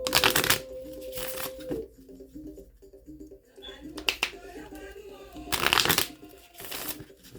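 Shuffling an animal oracle card deck produces several bursts of crisp riffling, close and fairly loud, separated by quieter gaps with soft handling noises.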